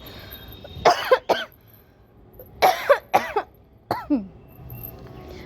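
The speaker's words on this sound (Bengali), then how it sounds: "1 মিনিট দাঁড়াও, কাশি পাচ্ছে।" Someone coughs in three close bursts, each a pair or cluster of sharp, loud hacks, separated by short quiet pauses indoors in a kitchen.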